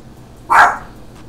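A dog lets out one loud, close bark, a single short burst rising out of a quiet outdoor background by a river.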